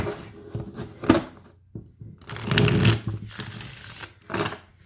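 A deck of Isidore Tarot cards in plain laminated cardstock being shuffled by hand, quiet close riffles and soft shuffling rustles in several short bursts with brief pauses.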